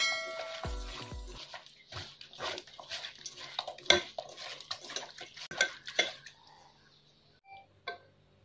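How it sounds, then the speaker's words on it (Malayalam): Chicken marinade with crushed Maggi cubes is mixed by hand in a dish, giving wet squelches and light clinks against the bowl. The sounds come in uneven bursts and fade toward the end. "മാഗിയുടെ ക്യൂബ്സൊക്കെ ശരിക്കും ഒന്ന് പൊടിച്ച് തന്നെ മിക്സ് ചെയ്തോളൂ"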